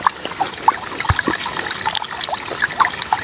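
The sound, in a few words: water trickling from a water source in an adventure park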